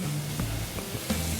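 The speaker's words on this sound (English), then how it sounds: "Oh yes, nice sizzle." Emu meat sizzling in a smoking-hot pan beside a huckleberry reduction: a steady, hissing fry under a faint background hum, with a few brief crackles and pops.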